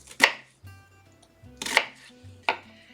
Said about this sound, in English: I just keep my fingers carefully placed like this and chop down through